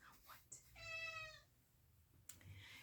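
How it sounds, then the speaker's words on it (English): A house cat gives one clear, drawn-out meow close by, with soft household noises and a few quiet sounds before and after it. "That's my son's cat baby"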